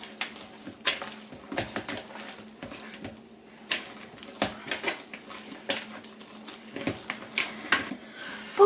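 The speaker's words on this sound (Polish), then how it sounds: "I zagniatamy tak, aż całe masło wchłonie nasze ciasto" Hands kneading dough with butter, a series of soft wet slaps and squishes in an irregular rhythm, close and fairly quiet.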